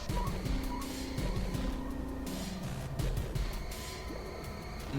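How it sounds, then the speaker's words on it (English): A hearse car in Twisted Metal Black drives through a combat arena, its engine a steady low rumble mixed with clanking game effects and bursts of action noise, fairly quiet throughout. "Yes, now we are going to play for the next campaign as Raven, driving Shadow the hearse."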